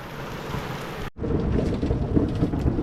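Rain and thunder arrive over rice fields: a steady rush of heavy rain with rolling thunder, briefly cut off near the start, then returning loud and dense throughout.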